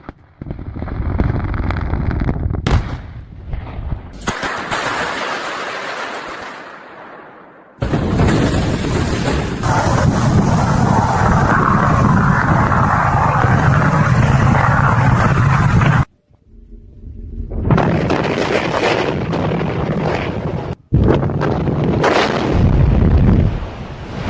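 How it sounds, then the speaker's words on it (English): Loud, continuous roaring blasts and rumbling explosions, with crackling bursts and brief gaps between heavy booming sections, close and overwhelming. "Thunderous blasts echo as debris flies through the air"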